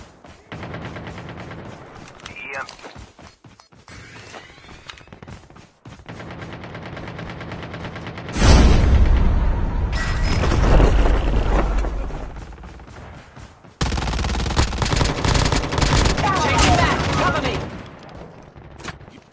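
Call of Duty gunfire: repeated bursts of automatic fire and loud shots, some close and heavy, with breaks between them, while players talk over the action.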